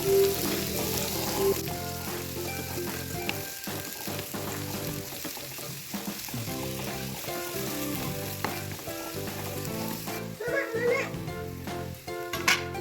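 Onion and cumin sautéing in a pan, a continuous close sizzle with occasional stirring, under music with brief bits of speech.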